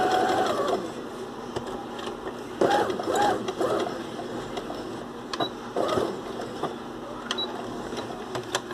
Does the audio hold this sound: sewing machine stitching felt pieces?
yes